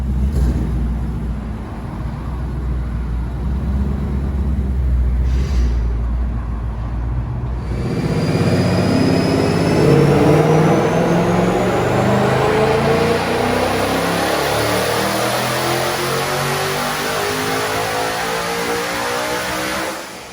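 A twin-turbo 2021 Mustang runs on a dyno at wastegate boost, the engine idling low at first, then surging into a loud, rising rev with turbo whine climbing steadily before easing off.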